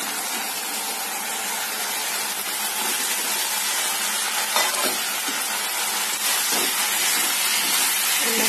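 Fried potatoes and soybean chunks are stirred into spices in a hot pan, giving a steady, loud sizzle and hiss throughout with occasional scraping stirs and no talking.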